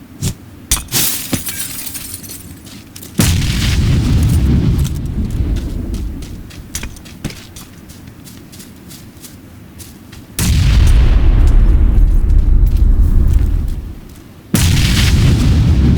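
Grenade blast in a shooting video game, two heavy booming bursts with shattering debris over several seconds, loud and close against ongoing game ambience.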